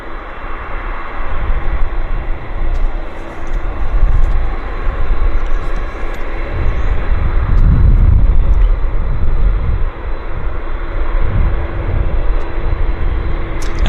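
An airliner taxiing in at Vancouver airport, heard as a loud, steady broadband engine roar with low rumbling swells, constant throughout and close by.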